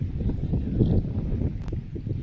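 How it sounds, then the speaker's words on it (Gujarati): Steady wind roars and buffets the microphone, a continuous low rumble with gusty surges and no voices. "પવન તાપ બહુ છે અત્યારે ફૂલ પવન છે"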